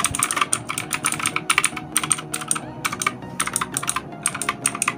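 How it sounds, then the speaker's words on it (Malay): Keys on a Crown mechanical keyboard clack in quick irregular bursts of presses, loud and close, with short pauses between flurries and no talking. "Jom kita try tekan-tekan."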